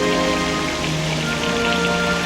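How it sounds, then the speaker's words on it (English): Steady rain falls on surfaces, a dense continuous patter that is loud and close throughout, with no voices over it. "I think we should get out of the rain."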